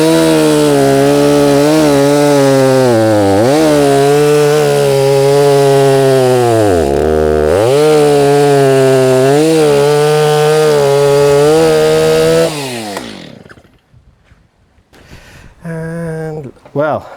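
An old Stihl MS390 chainsaw, started on choke, screams loudly and close up as it cuts wood, its pitch dipping under load at intervals before the engine drops to a rough idle and revs again.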